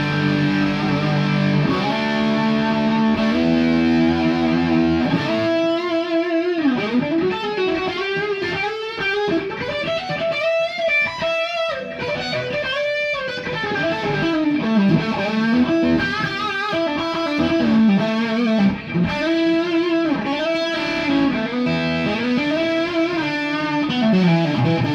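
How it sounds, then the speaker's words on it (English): Close, high-gain distorted electric guitar through a Kinman humbucker pickup plays a loud, sustained riff with thick chords and bending single notes, running steadily throughout. "that's guitar pretty close, a lot of gain going on"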